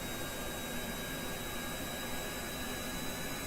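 Aircraft jet engines in the video game Kerbal Space Program, a steady loud roaring whine with a faint high tonal hum over it, unbroken and without talking.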